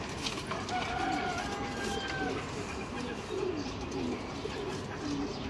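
Pigeons kept for sale coo in a loft, soft repeated low calls blending with a dense background of rustling, fluttering and other bird noise throughout.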